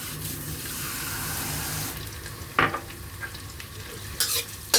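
Shrimp and vegetables stir-frying in a pan give a loud, steady sizzle at close range, broken later by a few sharp scraping and clattering strokes as they are tossed.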